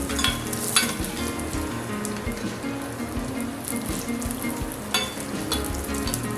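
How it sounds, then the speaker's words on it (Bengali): Malpua batter fries in oil over a medium flame, giving a steady, dense crackling sizzle with occasional sharper pops, close and continuous throughout. "মিডিয়াম ফ্লেমেই মালপোয়াগুলোকে এইভাবে ভাজবেন"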